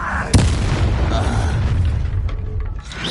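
Incendio fire spell blast in the Hogwarts Legacy video game, one sharp, loud burst early on followed by a roaring, crackling rumble that continues under the combat noise and tails off near the end.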